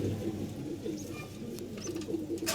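Pigeons in a loft where squabs are hatching give low, repeated cooing throughout, fairly close and steady, with a few faint chirps and a brief rustle near the end.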